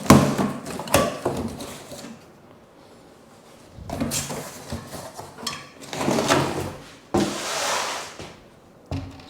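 A cardboard box holding a toilet tank being opened: scattered scrapes, thumps and rustling flaps in several separate bursts, close by, with quiet gaps between.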